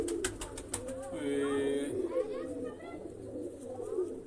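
A female pigeon coos softly, low throaty calls at close range, mixed with sharp clicks and brief chirps; no talking.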